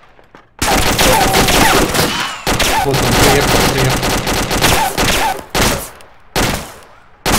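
Rapid bursts of gunfire in the video game ArmA 2 with the ACE mod, loud and close, in several volleys separated by short pauses, with someone speaking briefly at the start.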